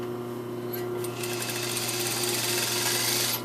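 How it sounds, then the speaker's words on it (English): A sewing machine runs at a steady pace stitching a fly zipper seam, a close mechanical hum with fast rhythmic needle clatter that continues throughout, running on its own without talk. "we're going to stitch it all the way down far as it will go in between the seam"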